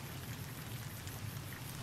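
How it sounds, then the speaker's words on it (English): Steady rain in Fallout New Vegas, a soft continuous hiss of falling drops with a low background rumble, even and unbroken with no talking. "I think we're having some rain."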